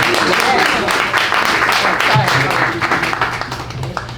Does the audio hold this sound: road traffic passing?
no